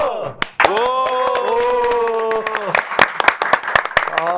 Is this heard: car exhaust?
no